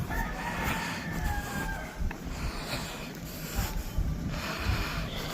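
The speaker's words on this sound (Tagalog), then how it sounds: "paggabi pala natilaok din ng manok." A rooster crows in the distance at night, drawn-out calls rising over a constant rushing background with occasional thumps.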